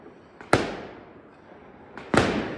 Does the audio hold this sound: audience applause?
no